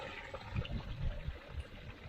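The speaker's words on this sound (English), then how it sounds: "Got a little water feature under there." A small water feature on a hiking trail trickles and gurgles softly, a faint, uneven burble of flowing water heard close up with no talking.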